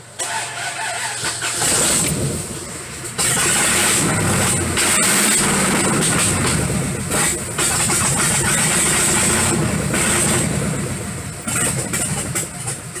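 Dodge Dakota truck engine runs at a rough idle, a loud uneven rumble that surges and dips, recorded up close with no talking.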